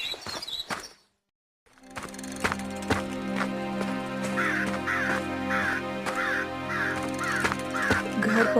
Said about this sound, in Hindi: दूर किसी पेड़ की डाल पर वही कौवा बैठा दिखाई देता